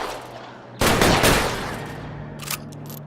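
Gunfire in the VR police shooter LA Noire VR: a sudden loud burst of overlapping shots erupts and rolls on for over a second, then trails into a steady drone with a few smaller sharp cracks afterward.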